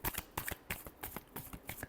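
Tarot cards are shuffled by hand in a quick run of crisp riffling bursts, about eight short slaps in two seconds, close and clear with no talk.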